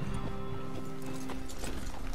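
Horse hooves clip-clop in the Red Dead Redemption 2 video game, a steady, close run of rhythmic hoofbeats over a constant bed of in-game ambience, with no voices over it.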